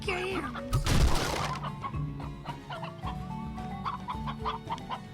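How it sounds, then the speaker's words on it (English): Chickens cluck and squawk in the video game Slime Rancher, a busy run of short, close, repeated calls over game sounds and a soft background hum. "Gotta get me lots of chicken!"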